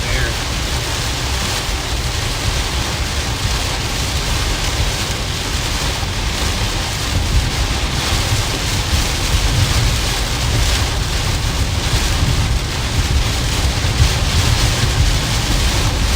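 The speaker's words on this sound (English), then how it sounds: "We're gonna be driving through the rain, but it should lighten up here a little bit." Heavy rain from a severe storm in South Dakota drumming steadily on a car while driving, a loud, dense, continuous roar with no break throughout.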